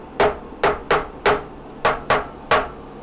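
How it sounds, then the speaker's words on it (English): Machined parts are hammered flat onto a parallel in a milling setup. Seven sharp, close metallic taps land in two quick groups with short pauses between them. "Let's hammer it to make sure the parts sit flat"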